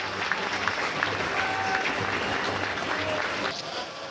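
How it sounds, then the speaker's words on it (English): Football fans at Crawley Town's Broadfield Stadium applaud at half-time against Harrogate Town, a dense steady clapping from a large crowd that carries on throughout, with faint voices mixed in. "Wonderful response from the fans in the Broadfield Stadium"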